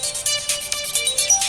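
A mobile phone ringtone plays loud and close, a bright repeating electronic melody with quick rhythmic pulses, heard alone with no speech.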